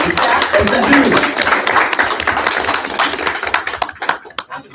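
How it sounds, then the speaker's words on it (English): Audience applause in a hall during an event, dense clapping that stays strong, then breaks into scattered individual claps as it fades, with voices mixed in. "give her a round of applause."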